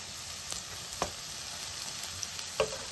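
Capsicum pieces, grated carrot, curry leaves and coriander sautéing in a pan, a close, even sizzle with a few sharp stirring taps.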